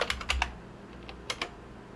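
A short terminal command typed on a computer keyboard running Fedora 41, heard as a quick cluster of close key clicks followed by a pause and then two more taps.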